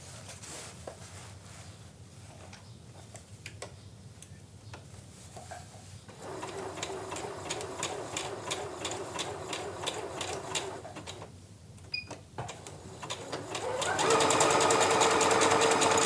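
Appliquéd antenna shapes are stitched onto a tote bag on a sewing machine. The motor runs in close, steady bursts with rapid needle ticking, then pauses, and finishes with a louder final run.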